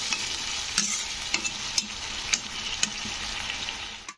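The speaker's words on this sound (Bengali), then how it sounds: "তো এখানে আমি সামান্য একটু জল দিলাম। জল দিয়ে একটু ফুটিয়ে নিতে হবে।" Okra cooks in a pan with a little added water, giving a soft continuous hiss and bubbling with a few faint scrapes and taps of a stirring utensil scattered through it. The whole sound is fairly quiet and there is no speech.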